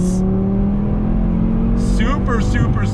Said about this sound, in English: great sound from that inline 5